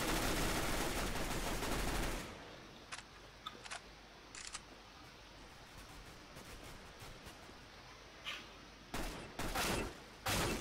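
Gunfire in the Counter-Strike: Global Offensive video game: a dense, loud burst of automatic fire for about two seconds, then scattered single shots and short bursts spread over the rest of the stretch.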